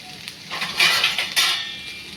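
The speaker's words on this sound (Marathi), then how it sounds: "झाकण ठेवूया आता." A lid goes onto a cooking pot of taakla wild greens with a few light metallic clinks and a scrape of metal on metal, close by, followed by a soft steady background.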